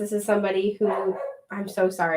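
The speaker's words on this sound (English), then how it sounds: "that's my dog" A pet dog barks in a home in several loud, sharp bursts mixed in with someone talking.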